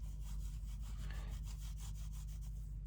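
Distress crayon rubbed over paper laid across a brickwork stencil, a steady scratchy rhythmic scraping of strokes, close and continuous over a low constant hum, with no talking.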